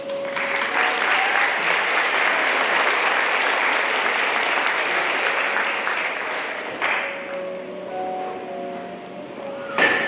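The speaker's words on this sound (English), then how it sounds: "give a warm round of applause to our guests and visitors" Audience at a high school scholarship award ceremony breaking into warm applause for guests and visitors, a full, sustained clatter of many hands that thins and fades toward the end, leaving a few scattered claps.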